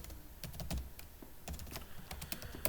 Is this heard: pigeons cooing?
no